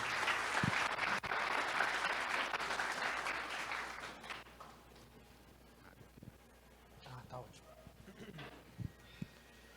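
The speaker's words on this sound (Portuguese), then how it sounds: "Uma salva de palmas, pessoal." An audience at a marketing executives' gathering applauds a speaker, loud clapping for about four seconds that fades into quieter room noise with scattered sounds and a voice afterward.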